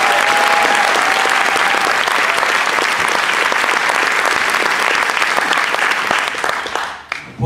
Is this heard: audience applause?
yes